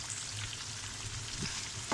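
Chicken with garlic and ginger sizzles steadily in a karahi, a continuous close frying hiss with a few faint stirring knocks, and no voices.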